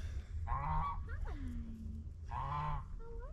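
Geese on a farm give two loud, nasal honks close by, with a softer bending call between them over a low rumbling background.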